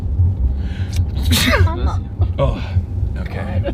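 A single sharp human sneeze bursts out near the mic amid ongoing conversation, followed by short breathy sounds and more voices talking over a steady low hum.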